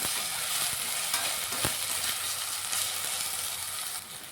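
Ginger garlic paste sizzles steadily in a hot pan while cooking mushroom Ambur biryani, a loud, dense, continuous hiss close up with occasional stirring scrapes, dropping slightly at the end.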